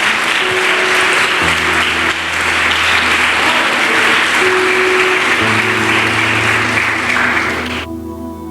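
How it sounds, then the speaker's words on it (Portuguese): A church congregation applauds during a sermon, with sustained, loud clapping from a large crowd that fades out at the end. "Você pode aplaudir ao Senhor."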